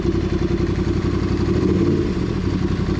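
A Ducati Scrambler motorcycle engine idles and runs nearby with a steady, rough mid-pitched throb, fairly loud and unbroken.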